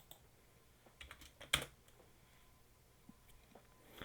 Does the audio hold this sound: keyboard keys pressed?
yes